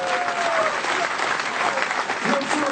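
A crowd at a London rap battle claps and cheers in a dense, steady roar that fills the whole clip, with some shouts and whistles rising out of it.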